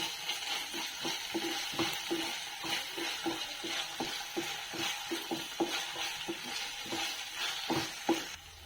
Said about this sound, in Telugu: ఇప్పుడు అల్లం వెల్లుల్లి పేస్ట్ ఒక టీ స్పూన్ వేస్తున్నాను దీన్ని పచ్చివాసన పోయే వరకు వేయించుకున్నాను